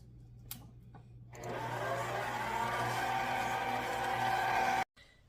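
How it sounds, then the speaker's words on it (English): A Princess House stand mixer whirs steadily as it beats rum cake batter, a loud continuous motor drone that runs for several seconds after a couple of faint knocks and then cuts off abruptly. "I'm using my Princess House mixing stand."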